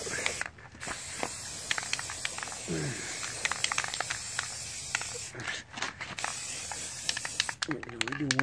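An aerosol can spray-paints a 1/18 scale model airplane in a steady hiss up close, pausing briefly now and then, with a person talking over it.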